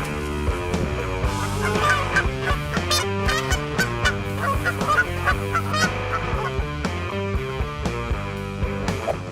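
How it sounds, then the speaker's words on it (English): An angry goose honks again and again, loud and close, in a dense run of harsh, brassy calls with no pause. "When a goose gets angry, the size of the opponent means nothing."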